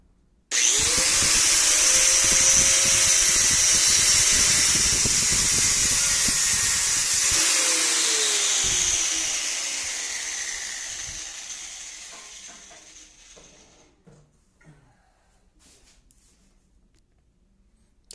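A grinding disc cutting pieces of aluminium horizontal blinds: a loud, harsh high-pitched whine with a lower tonal hum that holds steady for several seconds, then slowly winds down and fades to quiet.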